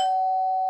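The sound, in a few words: doorbell ding-dong sound effect in cartoon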